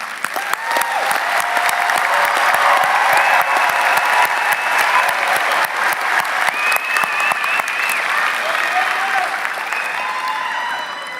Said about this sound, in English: let's take a moment to acknowledge our grads with a round of applause